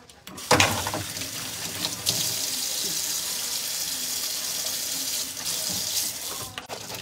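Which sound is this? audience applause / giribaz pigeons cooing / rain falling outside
rain falling outside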